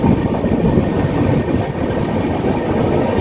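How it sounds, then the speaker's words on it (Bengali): A passenger train pulls out of Srikakulam station with a loud, steady rumble and rattle of the carriages running close by, with no voices. "আমাদের ট্রেনটা শ্রীকাকুলাম স্টেশন ছেড়ে চলে যাচ্ছে"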